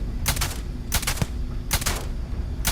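Gunfire in the Starfield game: four loud broadband bursts spaced roughly a second apart, each a short rattling volley of shots, over a steady low rumble of combat noise.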